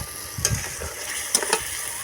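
Fried pointed gourd going into a pan of stirred yogurt, giving a low steady sizzle with a couple of brief clinks and splashes, no talking.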